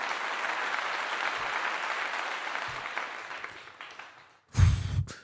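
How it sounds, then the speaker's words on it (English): Steady applause from a gathered audience at a college football postgame press setting, sustained and fairly loud before fading out, followed by a brief burst of louder, closer noise. "Let me give you a clap."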